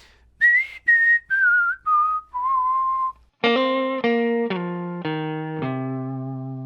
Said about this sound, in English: if I just like whistle a lick like